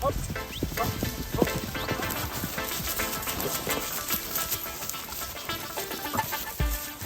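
Four horses driven in Hungarian post style, with the rider standing astride them, trot past in a continuous rapid clatter of hooves under a dense outdoor wash of noise.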